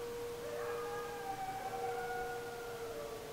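Distant, wavering coyote howls rise and fall in long overlapping tones below a ridge, faint against a steady outdoor background hiss.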